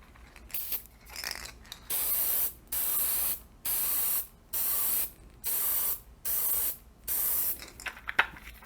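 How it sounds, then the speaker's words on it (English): Lubricant sprayed onto rifle brass cases in a series of about eight short, even bursts with brief pauses between them, close and hissing, with light handling clicks at the start and end. "So we're going to spray these down for lube."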